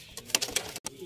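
A Sialkoti pigeon gives a few short, soft coos close by, in a quick broken run.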